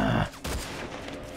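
Video game gunfire bursts out loudly, a quick rattling volley followed by a second sharp shot and a fading tail.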